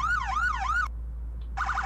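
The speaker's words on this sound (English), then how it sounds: "What about the sirens? This is gonna be loud." A police Crown Vic in the Roblox game Greenville sounds its siren: a loud wailing sweep cycling several times, a brief pause, then a faster yelping pattern, with no talk over it.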